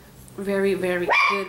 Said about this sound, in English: I'm sorry about the barking.